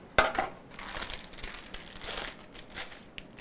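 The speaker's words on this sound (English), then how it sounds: "Now I'm going to pop them out of my pan and get them onto" Chocolate rice krispie treats being lifted out of a baking pan, giving a sharp initial crackle and then soft crinkling and rustling that fades over a few seconds, with no talk.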